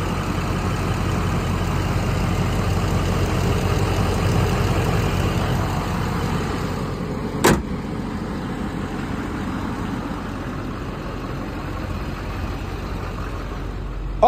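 A 2006 GMC Savana with a Thomas bus body and a Duramax engine idling, a steady low rumble that holds for the whole stretch, with one short sharp click midway and no talking.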